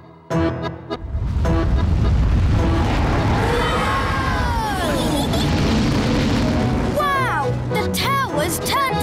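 A cartoon rocket launching with a loud rumbling roar that swells and holds, with whistling, sweeping tones rising and falling over it; a voice speaks near the end.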